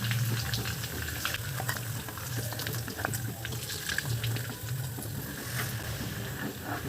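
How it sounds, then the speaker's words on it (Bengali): Small puti fish frying lightly in hot oil, a dense, bubbling sizzle with low watery churning and scattered pops, steady and close, no voices. "ঠিক এইভাবে মাছগুলো ভাজতে হবে"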